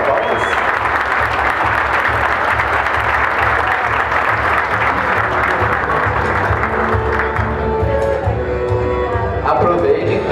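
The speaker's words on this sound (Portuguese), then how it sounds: "Palmas, pessoal, palmas." Loud, sustained audience applause at a finance conference in Curitiba as a speaker is welcomed to the stage, dense clapping with a steady low pulse of music underneath and faint voices toward the end.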